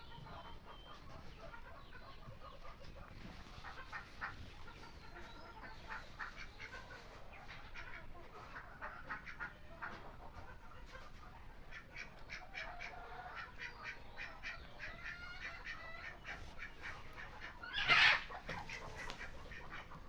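Ducks quack faintly and intermittently in a distant, low-level farmyard din, mixed with occasional clucking chickens, with one brief louder burst near the end.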